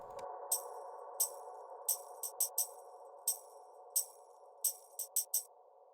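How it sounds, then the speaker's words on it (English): A basic tambourine loop from a liquid drum and bass track, crisp bright jingly hits in an irregular syncopated pattern over a quiet sustained low-mid pad, with no voices. "And this is a basic tambourine loop."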